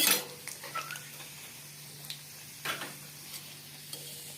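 A green pea kachori fries in hot oil in a wok, giving a faint, close sizzle with a few scattered light clinks and bubbling pops over about four seconds, with no talking.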